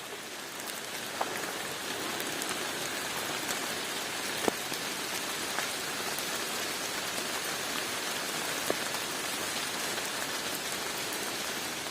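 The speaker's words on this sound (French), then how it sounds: "il pleut un peu fort" Fairly heavy rain falling on a hiking trail, a dense, steady patter with occasional louder drops hitting nearby surfaces.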